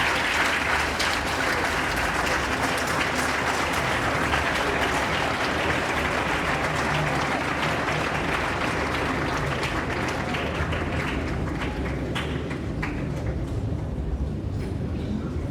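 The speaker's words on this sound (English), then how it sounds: "A loud round of applause for Emeritus." Loud, dense applause from a large crowd at KNUST's 59th congregation ceremony, a continuous roar of clapping hands that holds steady for the whole stretch and thins slightly toward the end.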